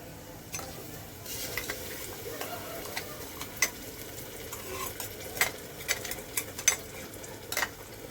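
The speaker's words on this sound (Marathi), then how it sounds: "पेस्ट नीट हलवून घेतलं" Ginger, garlic and coriander paste stirred and fried in a pot for a veg biryani, with a steady low sizzle broken by repeated scraping and clinking of the spoon against the metal, close by.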